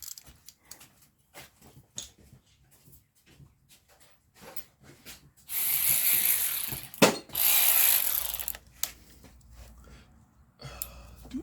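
Ratcheting power driver loosening a bolt during a starter replacement on a 2002 Toyota Solara SLE, heard as two loud bursts of whirring and clicking in the middle, surrounded by quieter scattered taps and shuffling.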